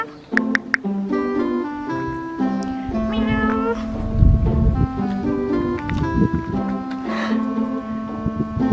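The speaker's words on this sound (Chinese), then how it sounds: "有一只野猫突然来蹭我" A stray cat meows repeatedly at close range, a series of clear, tonal, drawn-out cries scattered through the clip, while a person nearby talks softly to it.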